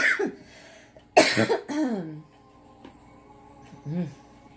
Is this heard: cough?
yes